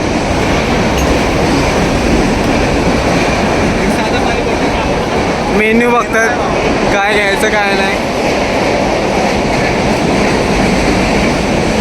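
A train rumbles loudly and steadily at a station, a constant roar throughout, with a few people talking briefly partway through.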